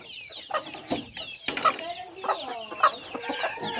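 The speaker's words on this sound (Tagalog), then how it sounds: "Tangkeng manok guys." Chickens on a rural Philippine farm cluck in short, repeated bursts, with one louder sharp call near the middle, the birds close and fairly loud over a busy background of other fowl.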